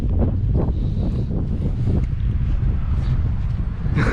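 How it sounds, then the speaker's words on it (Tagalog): Strong wind at Malico roars and buffets the microphone continuously, a heavy rumbling gust that stays loud throughout with no voices. "ang lakas ng hangin, oh."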